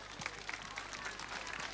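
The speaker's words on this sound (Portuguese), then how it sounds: "um grande aplauso" Crowd applause greets the guitarist at a live concert, with a dense, steady wash of clapping and crowd noise.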